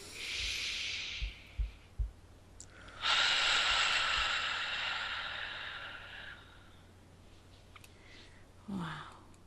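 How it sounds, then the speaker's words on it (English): One long, audible breath follows a few soft taps: a slow inhale, then a drawn-out breathy exhale lasting several seconds, close and fairly loud. It is a relaxing deep breath taken during an EFT tapping exercise. "take a deep breath"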